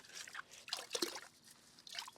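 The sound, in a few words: water trickling while rinsing an aquarium sponge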